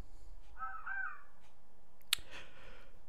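A crow caws faintly in the video game Resident Evil Zero, a few soft calls over a low ambient hum, followed by a sharp click.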